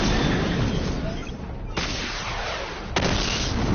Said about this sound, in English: charge up weapon energy and activate missile barrage